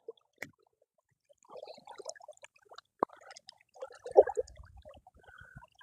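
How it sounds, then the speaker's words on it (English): Water from a passing boat's wake splashes and laps in at a fishing spot, with scattered soft slaps, trickles and drips that are faint and come in irregular bursts. "I just had a boat go by, so I got water coming in on me."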